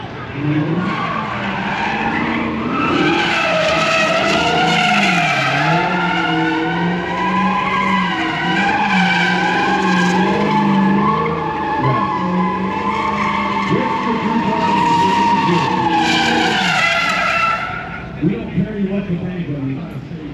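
A 2022 Dodge Charger Hellcat drifting at a ride experience, its tires squealing in a long, loud, sustained wail over the roaring V8 engine, close by, easing off near the end.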